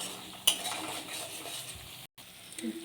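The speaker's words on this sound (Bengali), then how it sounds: "মশলাটা ততক্ষণই কষবো যতক্ষণ না তেল ছেড়ে আসে মশলার গা থেকে।" Spice masala fries in oil as it is stirred and cooked down for chhanar kofta curry, a soft steady sizzle with scraping strokes and a brief clink, close and fairly quiet, no talking.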